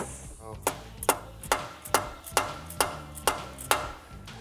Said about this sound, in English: May give it a little love tap with a hammer too